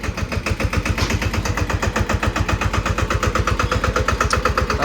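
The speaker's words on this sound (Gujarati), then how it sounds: "તો હવે ભાઈ હાથવા ખેતરમાં મારું ટ્રેક્ટર સ્ટાર્ટ થઈ ગયું છે." A tractor engine idling in a farm field after starting, with a steady, fast, rhythmic chugging that stays close and even throughout, and no voices.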